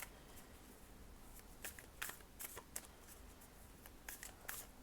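A deck of tarot cards is shuffled up close, with quick riffling bursts and soft flicks coming in irregular clusters over a faint, quiet background, and no one speaking.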